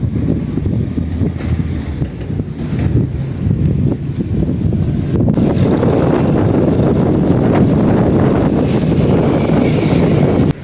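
Heavy rain with hail pelts down in a village, a loud, dense roar with strong wind buffeting the microphone throughout, no voices heard.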